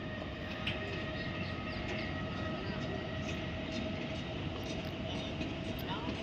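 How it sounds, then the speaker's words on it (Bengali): Low, steady rumble of a train rolling past at a distance in Mumbai, among tall buildings under construction, a continuous drone with faint rattling over it. "ওই ট্রেন যাচ্ছে"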